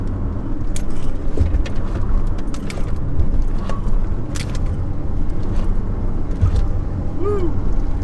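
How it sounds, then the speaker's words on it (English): A 1997 Chevrolet Camaro with new front suspension runs a slalom test, its engine and road noise droning steadily and close, with tire and body rumble rising and easing through the turns and a brief squeal near the end. "let's try a little bit of a slalom test"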